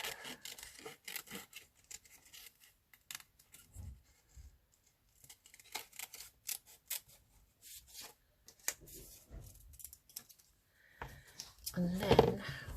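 Scissors trimming a spiky plant cutout for a paper collage, with soft intermittent snips and paper rustles. Quiet handling noises are scattered throughout, and a louder burst of crinkling comes near the end.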